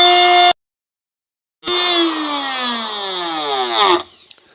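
A power drill bores a starter hole through a guitar body template: a short whining burst, a pause of silence, then a longer loud drilling run whose pitch sags under load before it stops, with no talk.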